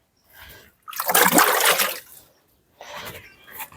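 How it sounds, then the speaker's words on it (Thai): Water splashed by hand onto fresh plaster on a wall, a few bursts of splashing and pouring, the loudest in the middle, with short quiet gaps between. "สาดน้ำใส่อีกสักหน่อย"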